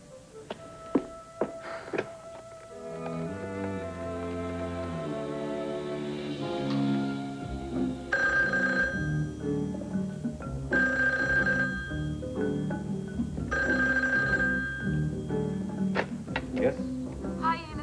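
Telephone ringing in a 1982 television soap opera scene, with several bright repeated rings sounding over continuous background music.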